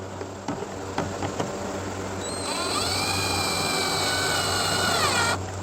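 Power tool driving the headlight assembly screws on a 2015 Chevy Malibu: a few brief ticks and bursts, then a steady high-pitched motor whine held for about three seconds before stopping, close and fairly loud.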